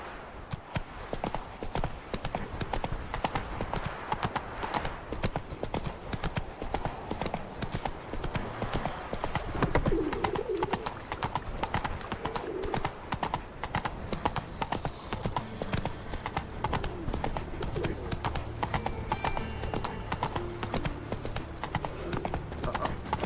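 Steady rhythmic clip-clop of horse hooves at a trot in the video game The Witcher 3: Wild Hunt, continuous and fairly loud, with faint breathing and brief sounds mixed in.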